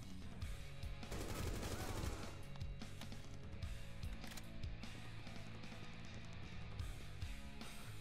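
Sustained automatic gunfire from a Rainbow Six Siege match, loud and dense throughout with rapid bursts stacked over constant game noise, and a few faint voices underneath.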